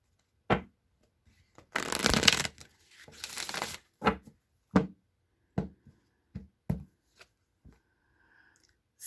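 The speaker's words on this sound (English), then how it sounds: "One more shuffle." Tarot cards being shuffled by hand during a card reading, a longer riffling flurry early on followed by a series of separate soft card slaps and taps, close and quiet with no talk.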